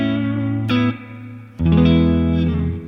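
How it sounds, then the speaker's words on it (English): Electric guitar playing muted notes soaked in heavy reverb, with a bass guitar underneath, two sustained chord phrases washing together with a long blurred tail and little definition, loud and close. "if you put that amount of reverb we hear with the muted notes to everything gets drowned in that sound"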